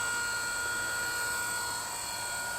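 WLtoys V950 entry-level 3D RC helicopter in flight at around 60% throttle, a steady, close, high-pitched rotor and motor whine throughout with no talk.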